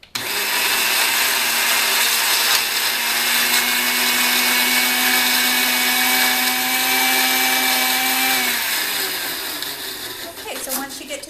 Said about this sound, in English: Here, I'm going to go ahead and start to blend it.